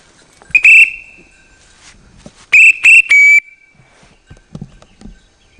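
A small police-style whistle, given as a gift, is blown in short shrill blasts: one near the start, then three quick bursts in a row, with quiet in between.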